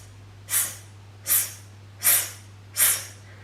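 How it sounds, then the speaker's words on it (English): Air hissed out fast through the mouth in a breathing exercise for singers, four sharp, evenly spaced bursts of close breath hiss with quiet gaps between them. "I'm kind of hissing the air out real fast"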